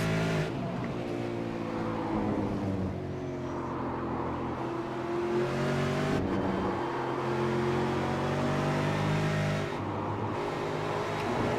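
Race cars roar around the Road Atlanta circuit at the start of lap 25, a steady loud engine drone with pitch sweeping up and down as cars accelerate and pass, continuous throughout.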